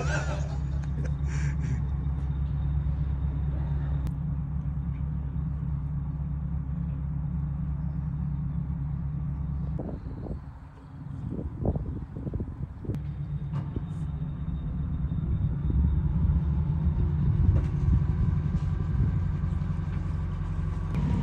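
A tour boat's engine runs on a canal in Swindon, a steady low drone that holds throughout, with a brief dip and some clatter midway before it settles back to an even hum.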